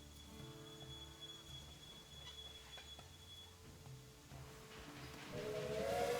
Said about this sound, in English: Our first train is running.